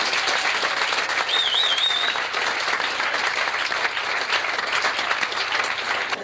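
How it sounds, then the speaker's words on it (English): A comedy club audience in Sacramento applauds warmly as comedian Ellis Levinson is welcomed on stage, with dense, sustained clapping and a short whistle early on, fading slightly at the end. "Put your hands together. Nice warm welcome for Mr."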